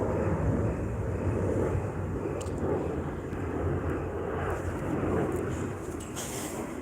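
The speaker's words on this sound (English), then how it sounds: "this fucking plane crossing overhead is gonna fucking be really annoying if I don't wait until it passes to fucking talk" A fixed-wing airplane passes overhead in a steady, broad engine roar that fills the whole stretch, with some wind buffeting on the microphone and no one speaking.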